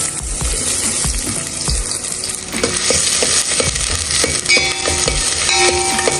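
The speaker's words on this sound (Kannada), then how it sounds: "ಎಣ್ಣೆ ಕಾಯಿದ ತಕ್ಷಣ ಈರುಳ್ಳಿ ನಮ್ದೆಲ್ಲ ಇಡೀ ಲೆಕ್ಕ ಕೈಲಿ ಎಸ್ಬೋದು ಹಾಕ್ತಾ ಇರೋದು" Onions tossed into hot oil while starting a pepper chicken dish crackle and sizzle up close, with bursts of stirring, scraping and metallic clinks of a utensil against the pan, no speech.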